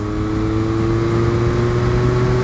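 Engine drone from a 2023 Yamaha MT-09 three-cylinder motorcycle pulling steadily in sixth gear around 4,000 RPM, with strong, even harmonics rising slightly in pitch and continuous wind noise, loud and close with no speech.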